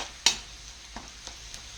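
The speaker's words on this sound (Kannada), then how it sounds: "ಬೆಳ್ಳುಳ್ಳಿ ಸ್ವಲ್ಪ ಅರ್ಧ ಕೆಂಪಾಗಿದೆ, ಸಾಸಿವೆ ಹಾಕ್ತಾ ಇದ್ದೀನಿ." Mustard seeds and half-browned garlic fry in a pan for garlic rice, giving a faint, steady sizzle broken by one sharp pop and a few softer crackles, with no voices.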